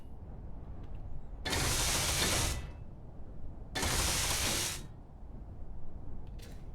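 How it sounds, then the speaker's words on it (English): Space Engineers welder tool running in two separate bursts of broadband hissing spray, each about a second long, loud against a low steady hum, with no talking. "Welder's on."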